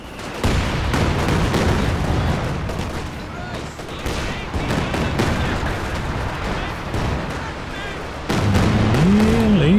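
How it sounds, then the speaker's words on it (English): Katyusha rocket barrage in the wartime strategy game Company of Heroes 2: dense, continuous roll of rapid launches and booming impacts across the whole stretch, louder near the end, with a commentator talking over it. "Katyusha barrage is out the back."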